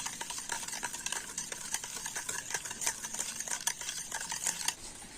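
Sour yogurt and powdered sugar whisked in a bowl: quick, regular clicking strokes of a whisk against the bowl, close and continuous for several seconds, no talking.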